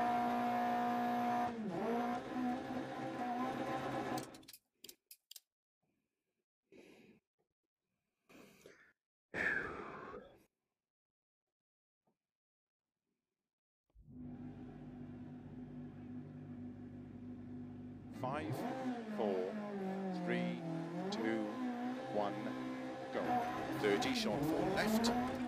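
A Group B four-wheel-drive Peugeot rally car on a Scottish stage, its engine loud and revving hard with shifting pitch, dropping out briefly to near silence before roaring back, while a co-driver calls pace notes.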